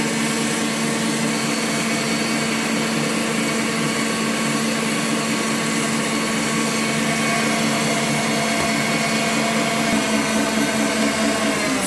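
An electric mixer beats egg whites for a chiffon custard cake, giving a loud, steady motorised whir that runs unbroken throughout with no voices.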